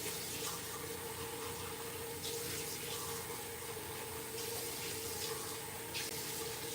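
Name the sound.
water running while rinsing a makeup brush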